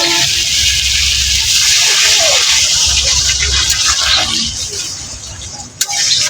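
Water poured into a pan of cooked radish gives a steady, close rushing gush that fades out near the end, followed by a brief knock.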